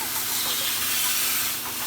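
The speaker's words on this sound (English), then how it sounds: "Then I come along and I spray along here real lightly above each one of these pockets." Light water spray misting over the soil pockets of a small barrel garden planter, a steady continuous hiss close by with no talking.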